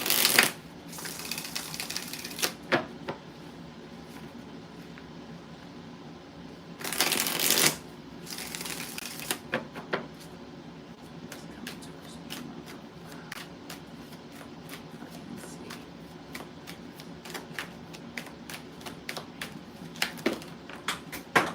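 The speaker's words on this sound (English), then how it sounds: "2 more shuffles" A deck of tarot cards riffled and shuffled several times, crisp fluttering bursts up close, with quieter handling clicks and taps between shuffles.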